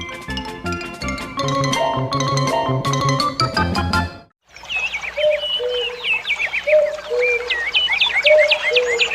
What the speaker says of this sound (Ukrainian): прилетіла зозуля, сіла на суку та співа ку-ку, ку-ку, ку-ку